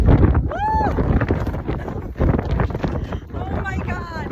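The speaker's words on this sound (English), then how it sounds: "It is so windy." Strong wind gusts outdoors on a snowy day, roaring and buffeting against the microphone, while a person's voice and whoops come through the gusts.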